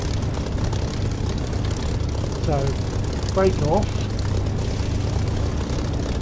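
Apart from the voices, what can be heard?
propeller aircraft engine throttling up to taxi in DCS flight simulator video game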